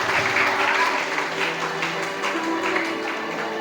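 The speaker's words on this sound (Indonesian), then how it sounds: "Tepuk tangan buat Bunda kita hari ini." An audience at a parenting seminar for boarding school parents claps in steady, dense applause that holds evenly throughout, with no talking over it.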